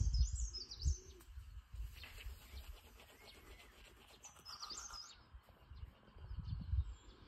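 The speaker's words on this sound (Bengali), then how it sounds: "চারিপাশে পাখির আওয়াজ, কিচিরমিচির" Birds chirp at a homestead in Jhandi, Kalimpong, on a cool morning, with a few faint, distant high tweets and trills over low wind rumble and quiet ambient noise.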